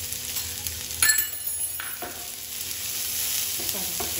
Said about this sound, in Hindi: अब आप इसे अच्छे से पका लें, रोस्ट नहीं करना, बस हल्का सा पकाना